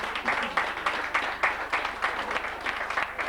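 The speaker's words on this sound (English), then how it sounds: "Give him a round of applause." Steady audience applause, a dense patter of many hands clapping together at moderate volume, continuing throughout.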